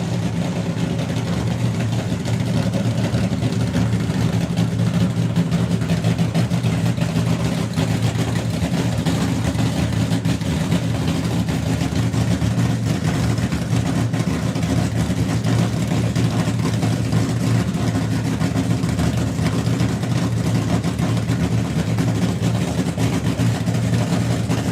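A drag racing car's engine runs steadily at a European drag racing finals event, a loud continuous low rumble that holds at the same level throughout with no talking.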